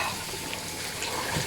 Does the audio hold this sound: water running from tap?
yes